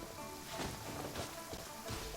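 Rain falls during the Lantern Rite festival in the video game Genshin Impact, a steady hiss of drops on surfaces with a few louder patters, heard alone.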